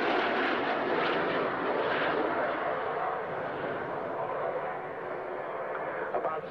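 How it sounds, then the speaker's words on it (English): A twin-engined jet aircraft powered by two Rolls-Royce Derwent centrifugal turbojets roars past, a loud broad engine rumble that slowly fades over several seconds with no speech. "a twin-engined aeroplane, two Rolls-Royce Derwent engines"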